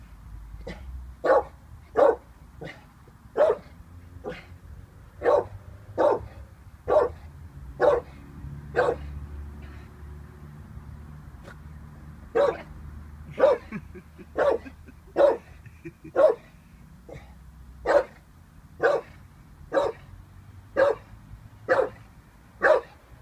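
A Staffordshire Bull Terrier, 18 months old, barks in a long series of sharp, evenly spaced single woofs, loud and close, with a brief pause midway before the barking resumes at the same steady rhythm.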